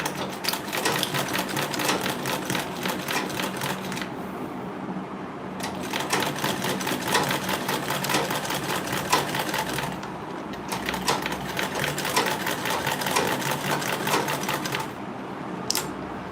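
A sewing machine stitches a mini grocery tote bag, its rapid needle clatter close and steady in three long bursts separated by short pauses.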